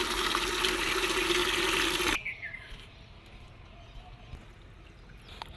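Water runs steadily into a bucket being filled for farm animals, a broad rushing pour for about two seconds that then cuts off, leaving faint outdoor ambience with scattered light clinks and a few distant bird-like sounds.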